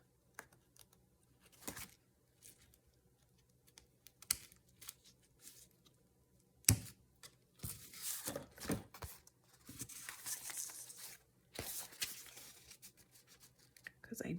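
Journal paper being cut with scissors in quiet, intermittent snips and rustles, faint and close, with short bursts of paper handling in between.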